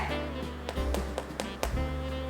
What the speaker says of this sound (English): A little trick to know if your focaccia is ready is to tap a little bit into the bread.